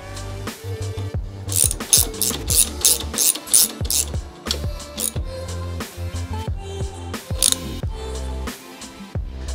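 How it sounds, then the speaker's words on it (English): Socket wrench ratcheting as it tightens the top nut on the upper shock mount of a Honda CBR/VFR 800 hybrid motorcycle build, with repeated close, loud ratchet-pawl clicking bursts and some metallic clanks, no talking. "Now I just gotta tighten up this top nut here."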